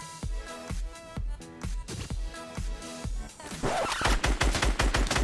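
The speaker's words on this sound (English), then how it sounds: "Why are you shooting the tree?" Rapid bursts of automatic gunfire in the Fortnite video game, repeated evenly spaced volleys that grow denser and louder toward the end, played loud and close without any talk.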